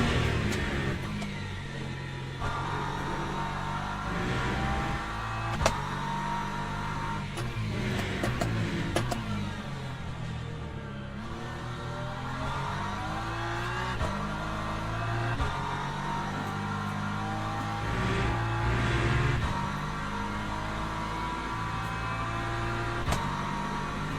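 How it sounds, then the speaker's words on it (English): An LMP2 prototype race car from the Le Mans Ultimate sim racing game, engine note rising and shifting through gears as it approaches, steady and moderately loud, with no talk. "Right, here comes an LMP2"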